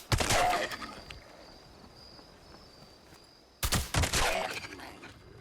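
Two bursts of rapid gunfire in the post-apocalyptic shooter Fallout 76, one at the start and one near the end, loud and sharp with a quiet stretch between them.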